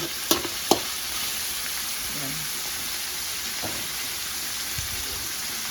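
Onion, garlic and a little pork sautéing in a pan for pancit, a steady soft sizzle with a few sharp clinks of a spatula against the pan early on.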